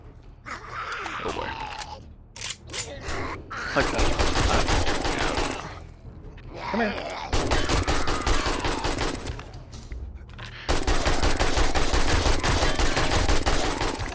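AK rifle fire in the game 7 Days to Die comes in loud, dense automatic bursts that stop and restart several times, with a player's gasps and mutters between them.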